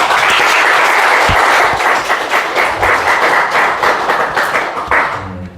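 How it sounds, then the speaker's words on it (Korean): Church congregation clapping together during a Sunday service, a dense, steady burst of applause nearby that thins and fades out at the end. "박수 한번 주세요."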